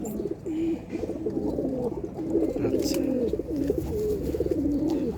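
Racing pigeons coo together in a loft in Keraniganj, with steady overlapping soft calls throughout and brief human talk mixed in.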